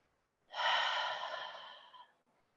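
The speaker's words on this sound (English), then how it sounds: "One more big breath" A single deep, slow breath during a yoga flow, audible as a soft airy exhale of about one and a half seconds that gradually fades, close and quiet with nothing else around it.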